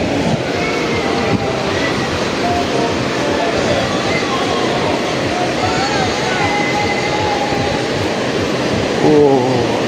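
Sea waves roll in at Tajpur beach, a broad continuous wash of surf with a steady roar, heard alongside wind and mixed background noise throughout.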